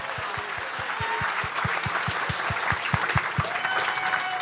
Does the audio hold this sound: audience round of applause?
yes